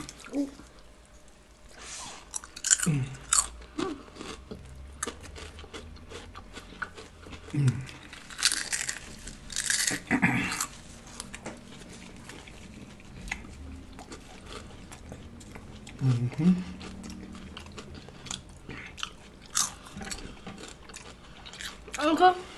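Salt and vinegar chips being crunched and chewed close up, with irregular crisp bites and wet chewing under intermittent casual talk.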